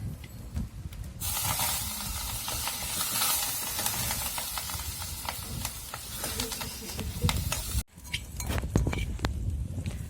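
Dried coriander and curry leaves sizzle in a hot pan for a village-style Marathi dal chutney, giving a steady loud hiss and crackle that runs almost throughout with a brief break near the end, alone without talk.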